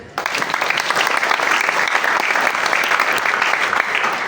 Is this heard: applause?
yes